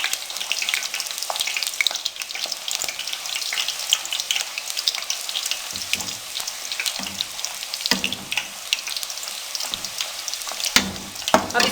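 Puris frying in hot ghee as more ghee is ladled over them, a loud crackling, bubbling sizzle with sharp spatters and surging bursts, close and uninterrupted by talk.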